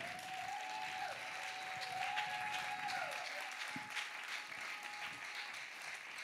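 A church congregation applauds together in sustained, steady clapping that fills the room, with faint voices mixed into the crowd noise.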